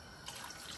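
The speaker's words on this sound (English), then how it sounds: "What I'm going to do now is add some water." Water pours from a tap into a cooking pot, a soft, faint splashing trickle that starts partway in and runs on with no voices.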